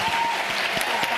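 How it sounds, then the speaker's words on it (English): Brief scattered applause from a conference audience honoring a climate innovation panel, a short patter of hands with a faint voice underneath. "please, let's give a round of applause to the panel"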